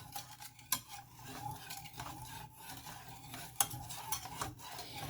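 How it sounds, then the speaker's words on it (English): A utensil stirs and scrapes a thickening vegan Dijon cheese-style sauce in a pan, with soft rubbing strokes, faint sizzling and a few sharp clicks of metal against the pan. The sound is close and quiet, with no talk. "we're going to scrape that off and we're going to continue to stir."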